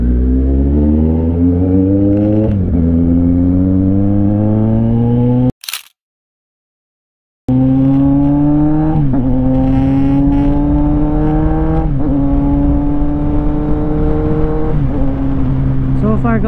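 Kawasaki Z900 motorcycle fitted with an AR exhaust muffler, revving hard through several rising gear pulls on an expressway, loud and close, with a brief silent gap midway and a rider talking over the engine.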